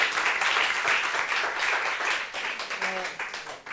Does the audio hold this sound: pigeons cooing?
no